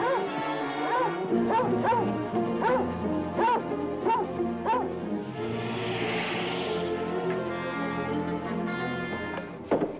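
A dog in a 1952 swamp-set film barks in a series of sharp, close, evenly spaced yaps and bow-wows, then falls to softer whimpering and whining amid a faint hiss.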